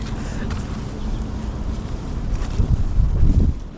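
Wind gusts by a river in strengthening rain, a steady close rumbling roar of air buffeting the microphone that swells louder toward the end, with no voices.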